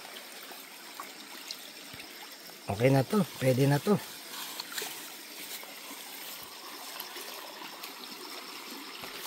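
Water trickles steadily into a hito catfish farming pond, a soft continuous wash running throughout, with a short burst of speech briefly over it.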